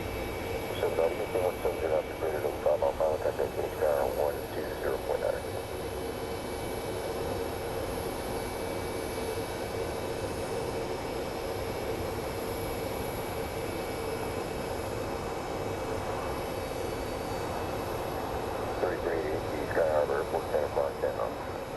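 Airplane landing at Phoenix Sky Harbor International Airport, a steady distant jet engine roar that swells at the start and again near the end, with people talking over it.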